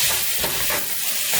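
Garden vegetable fried rice with okra and peppers is turned in a hot pan, producing a loud, close hiss of frying with a brief scrape of stirring and no talking.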